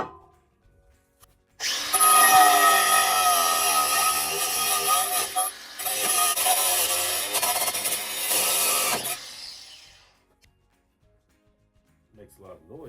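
A Sawzall reciprocating saw cuts loudly and harshly for about eight seconds with a brief stutter midway, used while freeing a stuck riding lawnmower, with quiet sounds before and after.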